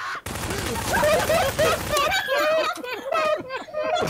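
Rapid shotgun fire in the game Garry's Mod Prop Hunt, loud bursts stacked together, with excited voices talking and shouting over the shots throughout.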